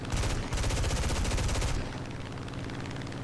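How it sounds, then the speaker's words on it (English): Aircraft machine guns firing in War Thunder from an F4F-4 or F8F-1 fighter: a loud, rapid continuous burst for nearly two seconds, then cutting off to a lower engine drone. "I'm firing a little wildly at this point in time"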